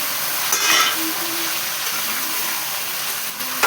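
Brinjal and onions fry in a pan for a home-cooked fry, giving a steady, close sizzle with faint crackles and occasional stirring clinks throughout, no talking.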